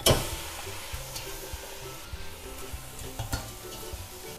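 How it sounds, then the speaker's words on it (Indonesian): Shrimp sautéed with spice paste in a pan for a vegetable coconut stew gives a steady close sizzle and hiss, with a loud burst at the start and occasional scrapes of stirring. "ini saya tumis juga udangnya."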